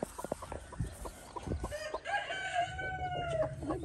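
A broody hen sitting in an old bookcase clucks over her chicks, a hen and rooster-like calls rising and holding near and loud, with short clucks early on and no talk.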